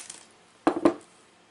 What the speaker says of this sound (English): I'm going to take my side cutters that are lined up and I'm going to cut them straight across